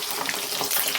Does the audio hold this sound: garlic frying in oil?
yes